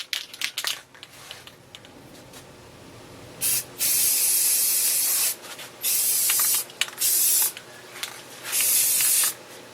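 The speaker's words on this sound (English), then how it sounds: "Rust-Oleum 2X semi-gloss clear spray. We're going to go over this very gently a couple of times" Rust-Oleum 2X semi-gloss clear spray is applied to a layered wooden leaf puzzle, with about five close, loud aerosol hissing bursts of roughly a second each, separated by short pauses.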